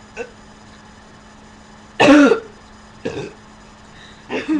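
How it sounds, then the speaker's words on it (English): Several short, raspy coughs and throat-clearing bursts come one after another, close and fairly loud, separated by quiet pauses, with a faint low hum underneath. "More of a cough than a burp."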